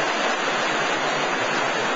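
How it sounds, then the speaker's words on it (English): Creek water rushing steadily past a streamside rock in the Great Smoky Mountains, a dense, even broadband wash that stays loud and close throughout with no voices. "watching the water go by"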